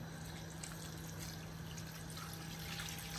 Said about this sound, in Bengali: এখন আমরা জল দিলাম